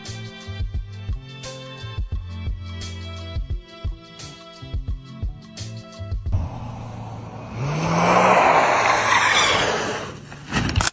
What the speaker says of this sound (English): A reckless merge, a near miss, a honk, panic braking, and a crash.